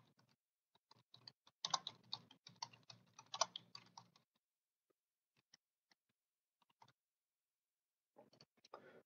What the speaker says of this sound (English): I'm just going to type one in.